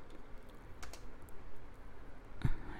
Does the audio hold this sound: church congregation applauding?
no